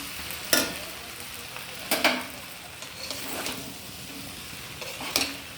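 Banana flower (mochar) curry with ghee being stirred in a pan, a low background sizzle broken by several distinct scraping sweeps of the spoon at irregular intervals, close by with no speech.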